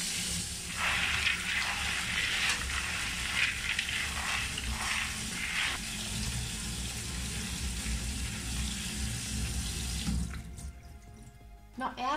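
Tap water runs steadily into a sink, pouring over frozen peas in a sieve, a continuous close splashing rush that stops near the end.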